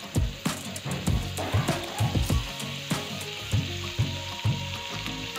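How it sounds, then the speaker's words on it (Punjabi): Butter melts on a hot flat tawa for Mumbai-style pav bhaji, giving a steady sizzle punctuated by repeated sharp knocks and scrapes of a spatula against the metal, in a fairly regular rhythm. "ਅਤੇ ਹੁਣ ਅਸੀਂ ਇਹਦੇ ਉੱਪਰ ਬਟਰ ਪਾ ਦੇਵਾਂਗੇ।"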